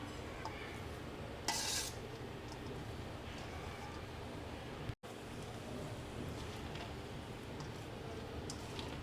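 Fried vegetables being stirred into cooked rice for pulao, with soft scraping and clinking of a spoon against the pot and one brief louder scrape near the start, all low under steady background noise.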